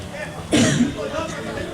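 A single sharp cough bursts out partway through, with a voice speaking around it.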